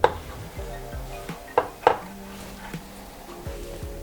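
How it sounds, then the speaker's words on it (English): Small spatula scraping and tapping against a metal baking tray while lifting out baked banana donuts, a few sharp clinks and scrapes spaced irregularly, close and fairly quiet. "you just want to remove the donuts from the baking tray. I like to use a small spatula for that"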